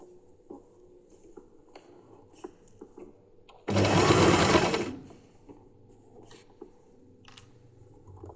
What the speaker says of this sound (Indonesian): Sambil dijahit lipatannya yang sudah ditandai, dipegang ya.